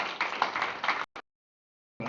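Applause from an audience at a leadership course graduation ceremony, honoring the class president, fairly faint and crowd-wide, stops abruptly after a second, a brief clap follows, then silence before the clapping resumes.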